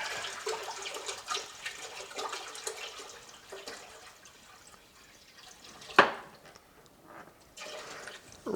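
Water pours into a pot for winemaking in a steady splashing rush that gradually thins and quiets, broken by one sharp clunk near the end.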